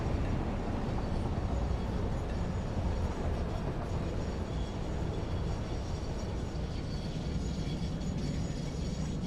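Train running in the video game Satisfactory, a steady, dense low rumble of rolling wheels and machinery that continues without a break, loud and close, with no talk over it.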